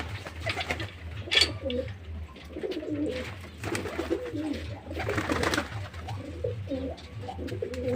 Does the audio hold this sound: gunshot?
no